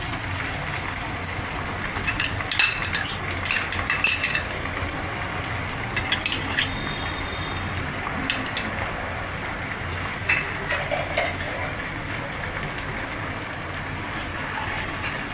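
Finely chopped ginger and spices frying in a pan for chicken bhuna masala, a steady crackling sizzle of hot oil with continuous fine spitting throughout.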